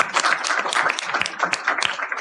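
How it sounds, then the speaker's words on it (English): A room full of people gives a round of applause for a panel of women at a Women's History Month event, dense steady clapping that swells and fades slightly. "So just a quick round of applause for all of them."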